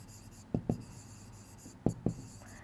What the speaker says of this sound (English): We write the third part here